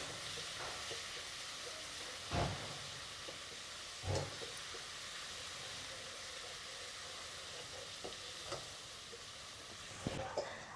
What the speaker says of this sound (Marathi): आपण वाटण केलेलं हिरवी मिरची लसूण कोथंबीर टाकून घेऊया मिरचीचा कच्चेपणा जाईपर्यंत परतून घेऊ